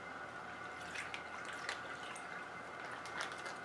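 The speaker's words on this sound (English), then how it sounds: "you fill it up with water." Water running into a thick plastic breather bag used for shipping fish, a faint, steady trickle with light splashes and small crinkles of the plastic, no voices.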